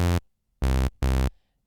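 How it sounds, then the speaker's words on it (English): A raw Serum synthesizer sawtooth wave played alone as three sustained notes, each with a bright, buzzy, harmonic-rich tone, the last two lower and louder, with short silences between and no voices. "So the Sawtooth Wave on its own sounds like this."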